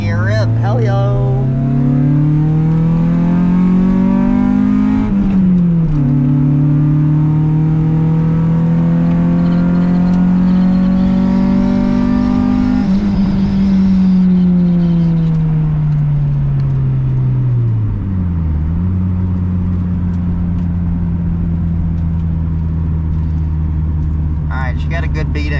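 A car with a freshly repaired exhaust rips hard through second gear, its engine note climbing steadily, dipping at shifts, then climbing again. The roar is loud, close and continuous throughout.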